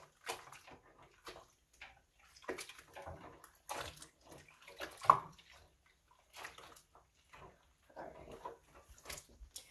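Clothes being washed by hand in a sink of water, with intermittent sloshing, splashing and rubbing sounds in irregular bursts, fairly close and moderately quiet, with no talking.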